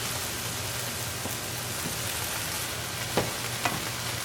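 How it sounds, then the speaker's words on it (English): Diced ham and potatoes fry in a pan for a honey mustard ham hash, giving a steady, even sizzle throughout with a couple of brief scraping clicks near the end and no talking. "So now we want to get everything else nice and brown and catching up with the potatoes."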